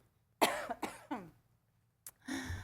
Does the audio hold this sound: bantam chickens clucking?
no